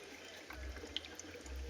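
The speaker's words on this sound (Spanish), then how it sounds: "Se llenó los dos catetos con el contenido, en este caso es agua." Water pours and splashes out of a Pythagorean theorem demonstration model, a soft, quiet liquid trickle with a few small splashes and gurgles, heard alone over a low background hum.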